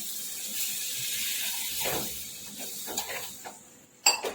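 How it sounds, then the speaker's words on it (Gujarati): Half a glass of water poured into a pot of green chori beans and potato curry, a short splashing pour under kitchen clatter, ending in a couple of sharp utensil knocks. "હવે એમાં અડધો ગ્લાસ પાણી એડ કરીશું"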